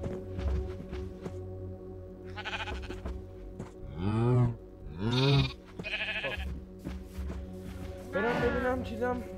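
Sheep on a Minecraft farm bleat in several wavering, nasal calls at close range, mixed with game footsteps and background music, while a person talks over parts of it.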